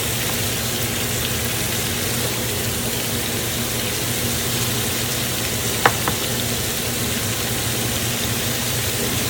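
Shrimp searing in a crowded pan for creamy shrimp pasta, giving a steady, even sizzle throughout with one brief sharp clink near the end and no talking.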